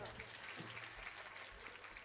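Steady applause from a crowd at a Hindu devotional katha recital, sustained clapping throughout with a faint voice underneath.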